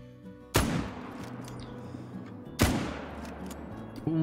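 Two sharp, loud hunting rifle shots roughly two seconds apart in the Call of the Wild hunting game, each a sudden crack followed by a rolling echo that fades over the outdoor ambience.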